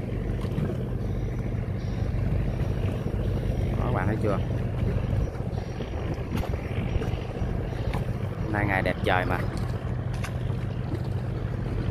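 Vietnamese fishing boats head out to sea with a steady engine drone and wind rumble, while people talk over it throughout.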